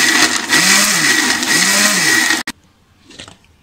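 Kitchen mixer grinder whirring loudly as it blends a chikoo milkshake, a steady motor drone with wavering pitch that cuts off abruptly, followed by faint clatter.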